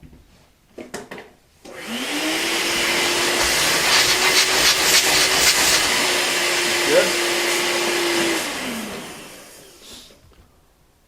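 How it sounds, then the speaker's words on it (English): A vacuum cleaner hums steadily for about six seconds while cleaning up sanding dust on an HD-28 guitar under repair, starting and stopping cleanly, with brief knocks before it and a short spoken word at the end. "Now vacuum it."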